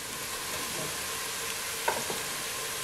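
Sliced onions fry in hot oil in a pan for a mung bean and pea sabzi, giving a steady soft sizzle with a couple of faint stirring clinks near the end.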